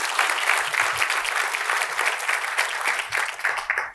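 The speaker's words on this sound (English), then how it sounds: "So please give a round of applause to." Sustained applause for Dr. James Doty at a workplace mindfulness and compassion talk, a dense, steady wash of many hands clapping that thins slightly near the end.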